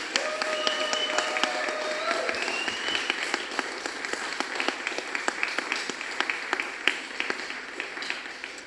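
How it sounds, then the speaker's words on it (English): Audience applause at a poetry reading about body, shame and identity, a dense steady wash of many hands clapping with sharp individual claps standing out, sustained for the whole stretch with faint voices underneath. "Another round of applause."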